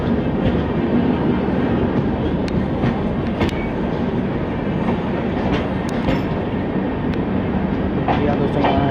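A busy railway platform at Lalkuan Junction in India, with a steady loud rumble of rail traffic and occasional clanks and squeals through the whole stretch. Talk can be heard under the noise.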